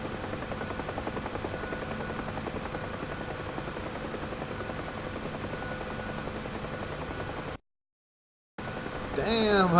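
A UH-1H Huey helicopter in the DCS flight simulator flying low, a steady droning rotor and engine hum, briefly cutting out to silence before resuming with some rising noise.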